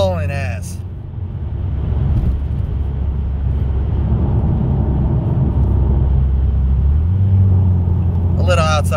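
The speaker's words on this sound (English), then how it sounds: "it's just an Escalade V. Just hauling ass." A 2024 Cadillac Escalade V driving fast in Texas, a loud sustained engine and road roar that swells and holds steady, with brief voices at the start and end.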